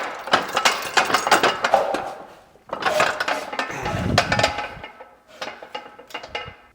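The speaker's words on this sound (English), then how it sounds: "I'm gonna have to press those springs down" A Harbor Freight press brake is worked to press springs down, giving two long bursts of close metallic clanking and ratcheting with a shorter, lighter rattling run at the end.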